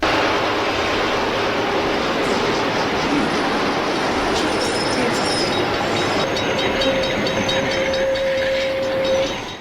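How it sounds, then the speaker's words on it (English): A commuter train braking hard to a stop, with loud continuous rumbling and rolling rail noise, and a thin high brake squeal rising toward the end. "the commuter train has managed to brake hard enough to come to a complete stop right in the nick of time"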